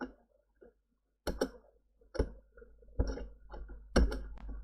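Computer keyboard being typed on, bursts of close, crisp key clicks in irregular clusters, starting after a short quiet pause and continuing alone without any talking.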